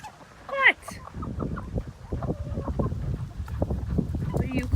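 Chickens cluck and murmur softly nearby in a steady flock chatter, with a brief louder squawk near the start and another at the end.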